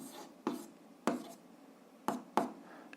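Pen strokes writing algebra on paper, a few quiet scratchy bursts spaced irregularly over a faint background.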